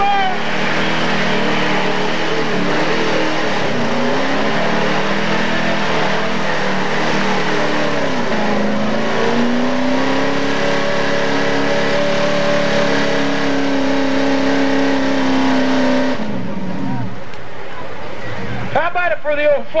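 An old Chevrolet flatbed work truck engine roars and revs steadily at a 1997 mud run, loud and close, with a rising and falling pitch and an announcer talking over it throughout.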